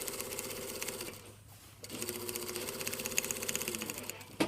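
A sewing machine stitches a shirt collar onto the neckline with a foot-width seam, a steady close whirring run that pauses briefly midway and then resumes.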